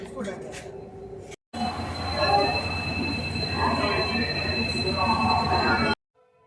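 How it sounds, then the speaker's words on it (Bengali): A train pulls out of a Kolkata station, heard from on board as a steady rolling rumble with thin, sustained wheel squeal after a brief opening pause. "আমাদের এখন ট্রেন ছেড়ে দিয়েছে"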